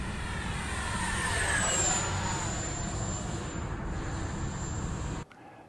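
A 4S RC electric ducted-fan jet flies past at full throttle, a loud continuous high-pitched whine and rush with a slight falling pitch as it passes, fading and cutting off at the end.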